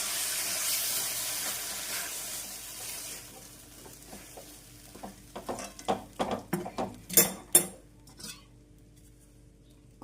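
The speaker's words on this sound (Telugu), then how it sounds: "ఇప్పుడు ఇందులో మనం ముందుగా ఉడికించి పెట్టుకున్న ఈ పప్పు ఆనపకాయ ముక్కల్ని వేసేసుకొని ఒకసారి వీటన్నిటిని బాగా కలిపేసుకుందాం" Cooked dal and bottle gourd pieces being stirred together in a pan: a faint sizzle at first, then a run of sharp, quick clinks and scrapes of a spoon against metal, close and clear, with no speech.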